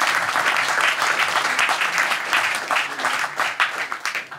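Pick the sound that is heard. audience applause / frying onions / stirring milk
audience applause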